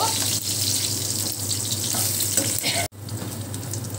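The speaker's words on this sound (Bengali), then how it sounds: "আলুগুলোকে আগে একটু ভেজে নেব।" Potatoes sizzle steadily in hot oil, a close, dense hiss with small crackles, cut by a sudden short drop near the end before the frying noise resumes; no one speaks.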